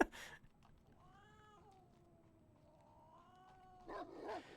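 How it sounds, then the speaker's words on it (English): A cat meows once, a long drawn-out wavering call at a faint, moderate distance, set between short bursts of noise and a quiet background. "All I hear is cats."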